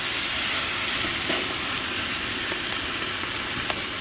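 Meat browning in a pot for Persian abgoosht stew gives off a dense, steady sizzle with a few sharp crackles, close and continuous, with no voices.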